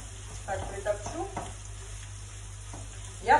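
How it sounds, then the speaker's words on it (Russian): Onion frying over raised heat in a pan, with a steady sizzle running throughout and a few louder stirring scrapes near the start and at the very end; no voices. "А мне нужно, чтобы обжарился у меня лук, так что добавляю побольше огня и пусть жарится."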